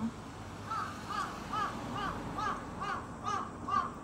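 A crow caws in a steady run of about eight short, evenly spaced calls, moderately close over a low background hum.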